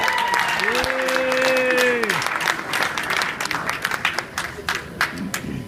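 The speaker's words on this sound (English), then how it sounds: "give them a round of applause" Steady applause from a crowd at a university fraternity formal, dense and sustained, then thinning toward the end, with a bright tone briefly sounding near the start.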